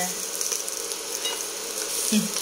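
Butter sizzles in a hot frying pan, a steady close hiss with faint crackles running the whole time and no voices over it.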